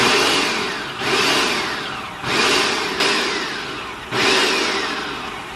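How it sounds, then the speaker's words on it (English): A food processor chops sliced mushrooms in loud, roaring bursts. Four pulses each surge and then trail off, and no voices are heard. "That just helps you chop them up better in the food processor."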